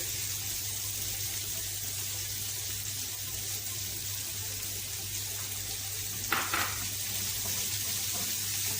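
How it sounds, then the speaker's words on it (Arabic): Onions and peppers sizzle in the oil left from browning meat in a cooking pot, a steady hissing fry throughout with one brief louder stir-like burst partway through. "هنبتدي نقلبه على الزيت بتاع اللي احنا شوحنا فيه اللحمه"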